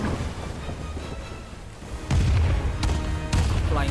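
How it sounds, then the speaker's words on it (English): A Flying Dutchman revolver cannon fires during a naval battle in Kingdom Hearts 3, with deep booming blasts over a rumbling battle din, two heavy impacts landing in the second half. "Flying Dutchman with a revolver cannon."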